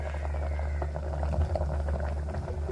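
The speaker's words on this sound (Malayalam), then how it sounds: "അത് നല്ലതുപോലെ തിളച്ചിട്ടുണ്ട്" A pot of curry made with yam bubbles at a steady boil, a close, continuous burble of popping bubbles with no speech.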